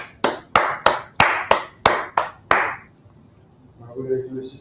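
Eight sharp, evenly spaced hand claps from a single nearby person, crisp and loud, followed by quiet room tone and then a voice starting to talk.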